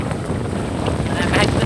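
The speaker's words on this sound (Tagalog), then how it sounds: "Lakas ng hangin na yan. Lakas ng ulan." Strong wind roars over rice fields in heavy rain, a loud broadband rush buffeting the microphone with gusts that swell toward the end.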